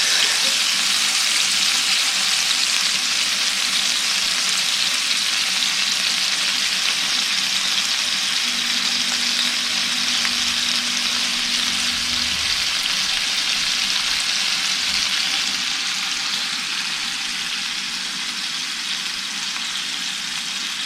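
Thick redfish fillets fry in a pan, a steady, even sizzle that holds throughout at moderate loudness, with no voices.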